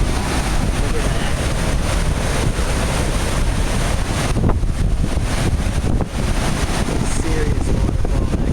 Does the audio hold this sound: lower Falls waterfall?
yes